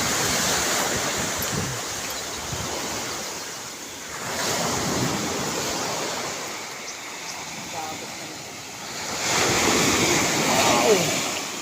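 High water waves crashing and washing in surges, loud rushing surf with wind buffeting the microphone, swelling and easing over several seconds.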